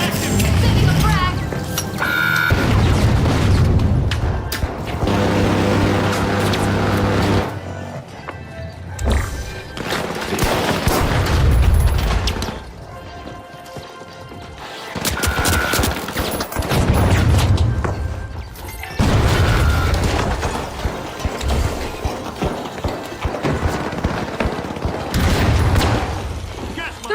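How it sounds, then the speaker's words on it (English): Frag grenade blasts and bursts of gunfire echo through a match of the shooter The Finals, loud booms separated by short gaps, with voices calling out over the action. "Sending a frag!"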